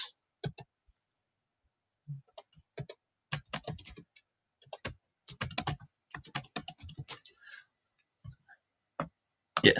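Computer keyboard typing, loud and close, in irregular bursts of clicky keystrokes with short pauses between, keys pressed in quick runs and then a final few taps.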